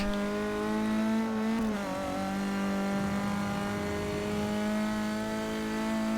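A race car's engine climbs steadily in pitch in the video game Forza Motorsport 6, a loud, continuous tonal whine as it regains speed, with a brief dip before accelerating on.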